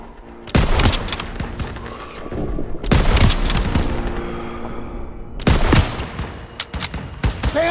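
Bursts of heavy gunfire in Call of Duty: WWII, with three loud volleys of rapid shots and booms separated by brief lulls, close and dense.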